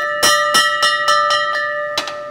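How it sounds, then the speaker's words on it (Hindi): A hand-rung bell on a 110-year-old restored fire engine clangs loudly six times in an uneven rhythm, each strike ringing with bright sustained tones, heard up close and alone. "ये जो मैं घंटा बजा रही हूँ ये बेसिकली इस गाड़ी का सायरन है।"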